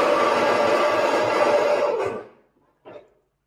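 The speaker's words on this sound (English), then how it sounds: "And that is the sound of a grinder" A coffee grinder whirs through beans in a steady, fairly loud grinding burst that stops abruptly after about two seconds, followed by a brief small clack.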